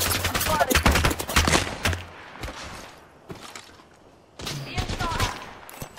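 Loud bursts of rapid gunfire from a video game shooter, one dense volley in the first two seconds, a sharp single shot near the middle, then another volley toward the end, with voices chattering between the shots.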